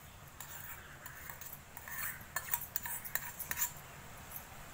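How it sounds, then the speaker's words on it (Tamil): Onion being added to a pan while cooking potato vegetable burgers, with soft clinking of a spoon against the cookware and light stirring scrapes, quiet and close. "இப்போ நம்ம வந்து வெங்காயம் போட்டுக்கலாம்."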